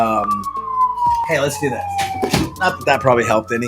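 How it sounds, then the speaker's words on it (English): A police or emergency siren wails outside near a hospital and a busy city road, its tone sweeping slowly down and then varying, clearly audible behind someone speaking close to the microphone. "Sorry for the siren going in the background."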